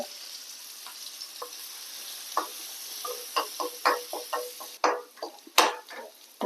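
Garlic and ginger fry in sunflower oil in a pan as a hiss of sizzling builds, broken by irregular knocks and scrapes of stirring that grow louder and busier toward the end.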